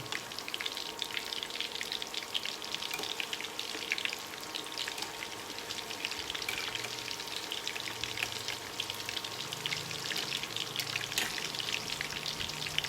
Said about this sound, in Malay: Menggoreng tahu ni memang ada rumit sikit dia, pasal kadang-kadang dia melekat pada kuali.